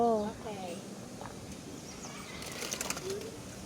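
Pigeons and other birds in Lou Lim Ieoc Park, Macau, give short calls and flap their wings nearby. A brief rustle of flight sounds in the middle, with people talking around them.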